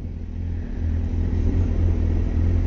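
A Lamborghini idles close by, its engine and radiator fan giving a steady, deep rumble that swells slightly and holds without a break.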